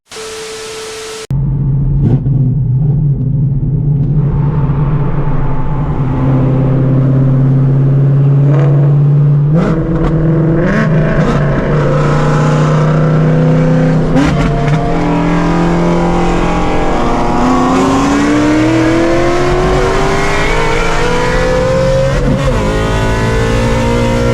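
Two 800-horsepower Shelby Mustangs, a GT350 and a GT500, racing: a loud, close engine roar starts abruptly, then climbs steadily through rising gear sweeps with shift breaks, sustained for over twenty seconds without talk.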